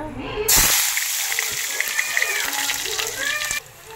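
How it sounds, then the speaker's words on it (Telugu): Onions and green chillies hit hot oil for a mutton curry, bursting into a loud sizzling hiss that holds steady for a few seconds, close up, then cuts off sharply. "ఆయిల్ హీట్ అయ్యింది. ఉల్లిపాయ పచ్చిమిరపకాయ వేస్తున్నాను."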